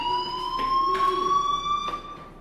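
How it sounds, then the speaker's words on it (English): A fire alarm rings inside the Life Is Strange video game: a steady, piercing electronic tone holds continuously throughout, with a few brief bursts of broadband noise over it and no talking. "do you hear that fire alarm?"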